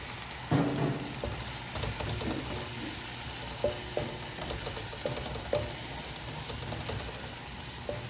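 Annatto oil sizzles steadily in a hot pan while garlic sotanghon is stir-fried, a dense continuous crackle broken by occasional clinks and stirring scrapes.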